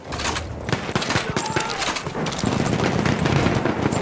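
Perino Model 1908 light machine gun firing in a First World War video game at Achi Baba: dense rapid bursts of automatic fire with other shots and battle noise, loud and continuous, no talk.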